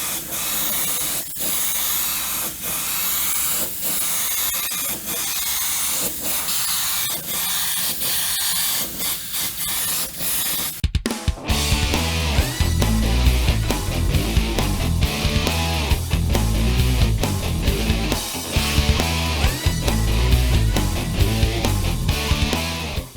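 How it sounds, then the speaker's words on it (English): A GSI Creos PS-290 airbrush fitted with an oval tip sprays paint in a steady, close hiss for about half the time, then loud music takes over. "I really did like the way the oval tip sprayed. I thought it sprayed really, really well."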